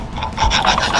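A metal hand file scuffs a Honda CR-V/Element AWD differential clutch part, giving a short, close, loud rasping scrape lasting about a second.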